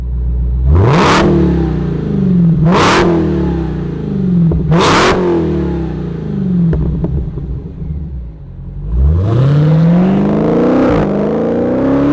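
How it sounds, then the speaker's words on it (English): A 2023 Dodge Challenger Demon 170's powerful engine roars through three sharp revs, settles into a deep, lumpy idle, then blips again with a loud throaty burst. "Let's fire it up and hear this Demon roar"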